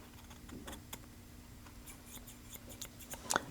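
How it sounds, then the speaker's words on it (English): Hair shears snipping through dry tissue during a sharpening test, a string of faint, scattered crisp cuts along the whole blade, ending in a sharper, louder snip near the end. "my first cut, I'm going to do on dry tissue, the whole blade"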